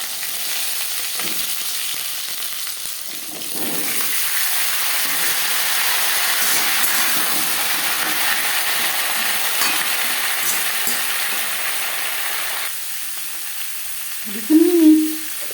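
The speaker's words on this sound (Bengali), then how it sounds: "লঙ্কার সাথে জিরে ভেজে নেওয়ার পর দিয়ে দেবো পেঁপে" Cumin seeds and green chilli fry in oil for a papaya and pea dal, a steady hissing sizzle that holds for several seconds, then drops away before a brief clatter near the end.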